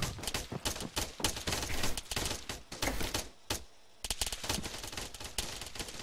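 Rapid bursts of automatic gunfire in the Arma military video game, loud crackling volleys in quick succession with a short pause midway before the shooting resumes.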